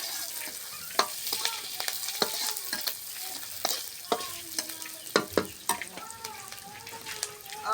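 Onions fry in a pan until browned, a steady close sizzle under frequent scraping and stirring clatter, with a wet, watery hiss throughout.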